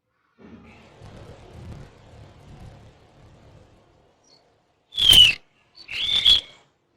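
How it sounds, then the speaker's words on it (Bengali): Two loud, harsh bird calls close by, separated by a short pause, following a stretch of quiet low rumbling. "কাক ডাকছে দেখো গাছের ডালে।"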